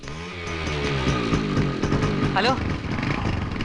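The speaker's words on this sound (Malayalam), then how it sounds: "ബൈക്ക്." A motorcycle engine revs loudly and close by, its buzzing drone rising and holding in a busy street scene, while a voice briefly speaks over it.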